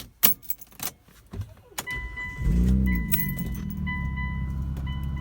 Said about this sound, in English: I'm going to go start the car